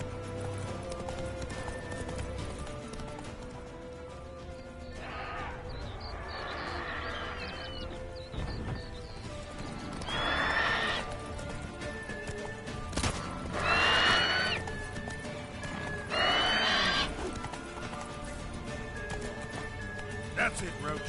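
Roach, Geralt's horse in The Witcher 3, gallops with steady rhythmic hoofbeats while someone talks over it, with several loud neighs and snorts breaking through the running clatter.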